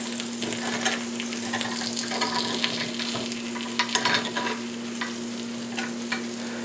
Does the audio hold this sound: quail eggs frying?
yes